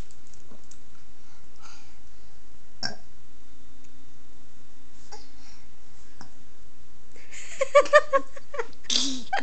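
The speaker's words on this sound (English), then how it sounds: "we're going to try again to do the uh-oh burp" A child burps while trying to say uh-oh. The room stays mostly quiet apart from a sharp click, then a short, voiced belch rises near the end with a brief breathy tail.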